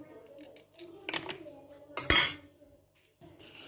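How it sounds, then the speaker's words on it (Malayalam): Eggs whisked with salt in a bowl for wheat dosa, with light metal-on-dish clinks and scraping in short bursts, one sharper clatter near the end, and no talking. "ഇത് നമുക്ക് ആവശ്യത്തിന് ഉപ്പും ചേർത്ത് ഒന്ന് കലക്കിയെടുക്കണം."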